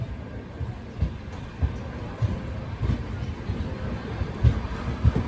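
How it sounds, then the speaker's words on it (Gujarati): Humsafar Express rolling on after its stop at Wankaner, heard from inside. A steady low rumble carries rhythmic wheel clunks on the rails and a wind-like hiss. "બે મિનિટનો સ્ટોપેજ લઈને આપણી ગાડી વાંકાનેરથી નીકળી ગઈ છે"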